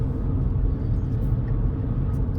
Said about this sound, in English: there's a truck